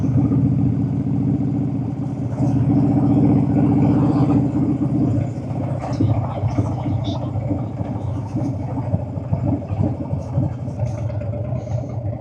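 Motorcycles on the Distinguished Gentleman's Ride at Mornington, engines idling and rumbling nearby with intermittent revs and passing bikes, and people talking in the background.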